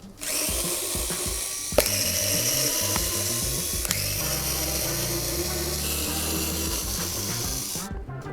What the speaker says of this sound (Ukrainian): У мене є ось така чудова акумуляторна викрутка